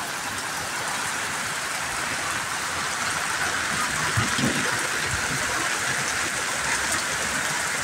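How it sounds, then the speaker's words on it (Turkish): Steady rain falling on a hazelnut orchard in the Black Sea mountains, a constant even hiss with no pauses, moderately loud and close. "Arkadaşlar güzel yağıyor."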